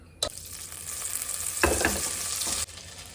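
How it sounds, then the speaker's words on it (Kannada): Hot oil and butter sizzle loudly as bay leaf, clove, cinnamon and cardamom hit the pan, with a couple of sharp bursts of crackling and stirring. "ಒಗ್ಗರಣೆಗೆ ಸ್ವಲ್ಪ ಬಟರ್ ಹಾಕ್ಕೊಳ್ತಾ ಇದ್ದೀನಿ."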